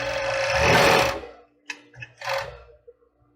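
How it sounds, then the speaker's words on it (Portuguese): An overlock sewing machine stitches fabric, finishing the edges of a child's bra: one sustained close, loud whirring run, then short stop-start bursts of stitching. "Passar um overlock para ficar um acabamento mais bonitinho."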